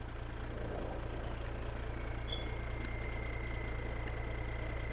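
A tractor engine idles in a farming video game, a low steady rumble that runs unbroken and fairly quiet throughout, with no talk over it.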